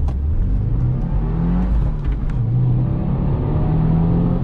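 Manual car, in a comparison of Subaru and Honda gearboxes, accelerating hard with a loud, steady engine roar close by; the pitch rises, dips briefly at the quick 1-2 shift, then climbs again.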